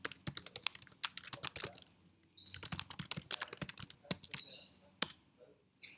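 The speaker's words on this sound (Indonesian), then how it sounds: "Setelah itu kita ketikkan komen ini." Rapid bursts of typing on a computer keyboard, entering a command in a Docker tutorial, come in irregular clusters of crisp clicks with short pauses, close and fairly quiet, alone without talk.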